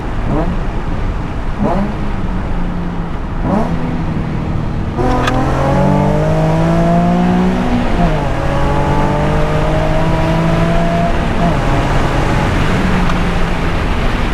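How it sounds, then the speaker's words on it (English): Nissan 350Z fitted with HR test pipes, its exhaust blipped in short revs then wound through a long, loud acceleration with rising tinny, raspy tone under a nearby voice. "it sounds almost like the construction of the exhaust is out of tin can"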